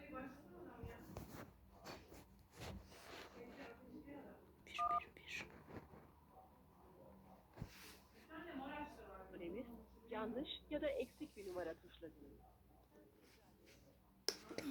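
Keypad tones ring out as a telephone number is dialed, several short beeps spaced irregularly between quiet stretches, with someone speaking faintly in the background at low overall level.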